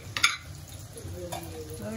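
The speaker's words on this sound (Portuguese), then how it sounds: "Enquanto a batata está fritando" Potatoes fry in a pan during dinner cooking, a faint, soft sizzle running beneath an early sharp stir or clink of a utensil.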